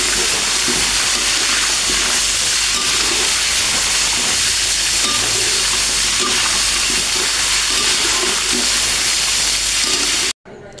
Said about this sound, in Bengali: মাংসটা ভালো মতো হিটে ভাজতে হবে